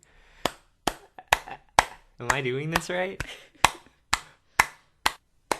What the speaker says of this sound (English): Now clap your hands, one against the other.